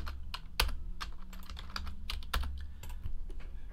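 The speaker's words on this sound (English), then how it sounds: "I'll type in TWC in the chat" Rapid keystrokes on a computer keyboard, tapped in quick irregular bursts with a few louder clacks, close and clear over a low background hum, with no talking.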